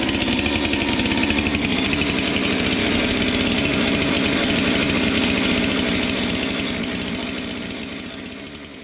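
A saw cutting a log at a county fair sawmill driven by a Detroit Diesel powered Frick mill, a loud steady engine drone with a rapid pulsing rhythm that fades slightly toward the end, with no talk.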